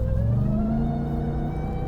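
A Ram TRX truck engine on a rally run pulls hard in a loud, steady close-up drone, its pitch climbing as it works through the gears, with no voices.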